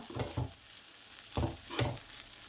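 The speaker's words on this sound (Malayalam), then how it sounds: "ഉപ്പിട്ട് കൊടുത്തൊന്ന് ഇളക്കി കൊടുത്ത് സ്റ്റൗ ഓഫാക്കി കൊടുക്കാം." Cooked moong dal being stirred in a pan after salt is added: three separate bursts of scraping and a soft sizzle, close and moderately quiet, with no talking.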